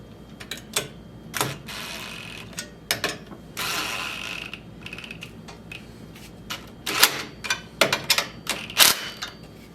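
A socket wrench runs nuts down U-bolts while a tool rack goes on a tractor ROPS, making repeated bursts of quick ratcheting clicks with brief pauses between them, close and fairly quiet.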